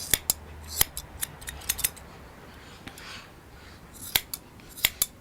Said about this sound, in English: by cutting away the hair on the back